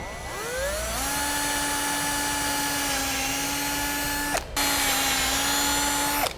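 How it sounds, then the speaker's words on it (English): A drill whines up to speed and bores a quarter-inch hole steadily through a metal side-step bracket, with a brief pause near the end before the high whir resumes, close by. "we'll drill a 1/4 inch hole right through those marks that we made"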